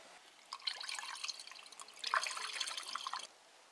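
Coolant trickles and drips steadily into a Fiat/Ford 1.2 l engine being refilled after a timing belt and water pump replacement, a faint, continuous liquid pour heard alone.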